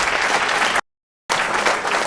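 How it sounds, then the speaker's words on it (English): A TV studio audience gives loud, dense applause for the brave ladies on the show, a thick burst of clapping that cuts out briefly to silence before resuming just as strongly. "Round of applause for these brave ladies."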